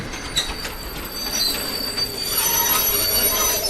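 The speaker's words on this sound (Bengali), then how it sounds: "একটা পুরনো ট্রেন ধীরে ধীরে ঢুকছে।" An old train pulls slowly into a station, its wheels squealing in thin, high tones over a steady metallic rumble that swells louder as it nears.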